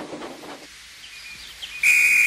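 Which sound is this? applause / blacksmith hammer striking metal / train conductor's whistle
train conductor's whistle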